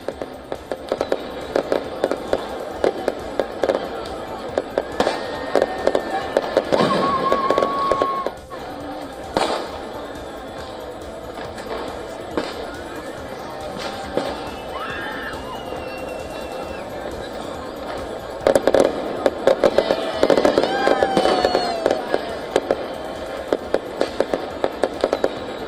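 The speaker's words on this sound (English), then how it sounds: "Handheld laser pens and flashes of fireworks illuminated the walls of one of Italy's most" New Year fireworks at the Colosseum in Rome: a dense, continuous crackle of bangs and pops at varying distances, with louder bursts clustering near the middle and end amid a busy crowd atmosphere.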